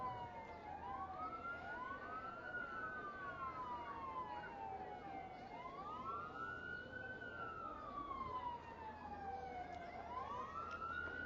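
Wailing siren on a Lee Volunteer Fire Department fire truck rolling in a hometown Founders Day parade, rising and falling in long sweeps over a low engine rumble, heard from a moderate distance.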